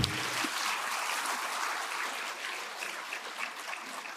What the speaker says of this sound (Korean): 박수 치려면 확실하게 치십시오.